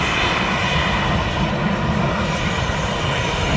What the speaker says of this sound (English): That private Joe just saw take off